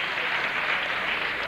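A crowd at a boxing exhibition bout between Roberto Duran and Errol Christie applauding in a dense, steady wash of clapping that fills the arena, with commentary voices underneath.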